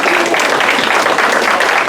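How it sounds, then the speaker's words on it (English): An audience applauds speakers at the close of a lung volume surgery program, a loud, dense and continuous patter of hands with no voices over it. "let's give them one more round of applause"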